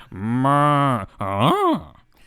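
A human voice imitates a cow mooing, two loud, drawn-out moos close to the mic, the second rising and bending in pitch.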